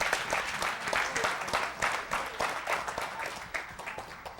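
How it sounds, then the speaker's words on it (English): An audience breaks into dense, steady applause after a talk, with many hands clapping together at close range for several seconds and only slight swells in loudness. "Give him a hand clap."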